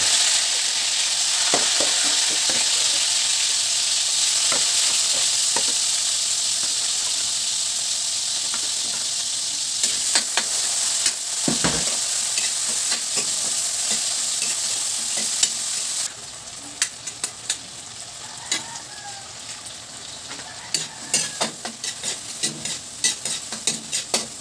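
Ampalaya (bitter gourd) sizzles steadily in a hot pan, a bright continuous frying hiss with scattered scraping stirs and clicks, nearby and fairly loud throughout.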